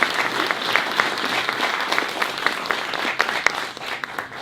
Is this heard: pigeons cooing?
no